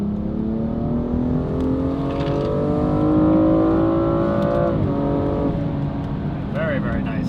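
A BMW N55 with a Valvetronic valved sport exhaust revs, heard from inside the cabin as a steady, resonant engine drone that climbs in pitch, drops at a gear shift, then climbs again.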